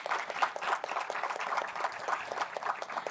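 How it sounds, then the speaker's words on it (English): Steady audience applause at a university National Science Day event, a dense wash of many hands clapping continuously throughout at moderate level with no talk over it. "So please give a big round of applause for this."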